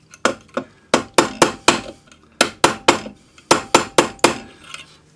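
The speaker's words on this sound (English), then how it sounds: "just hammer that little bit out just by hammering right on the edge of the ring" Metal ring edge hammered on a steel stake while shaping an anticlastic ring, a close, loud series of about fifteen sharp ringing strikes in uneven bursts with brief pauses between groups.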